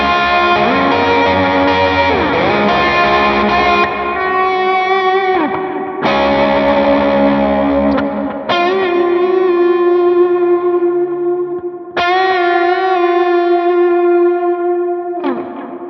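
An electric guitar plays slide-style gliding phrases without a slide, heavily effected with distortion and echo, sustained bent notes ringing out in several long phrases, loud and alone.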